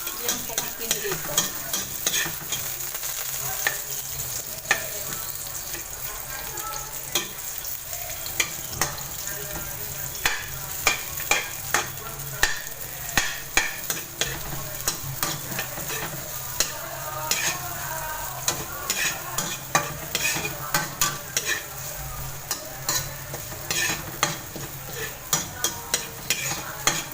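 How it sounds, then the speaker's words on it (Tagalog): Eggplant sautéing in a pan while it is stirred, with a steady sizzle running throughout and frequent sharp scrapes and clacks from a utensil on the pan's surface. "Gisa na natin yung talong"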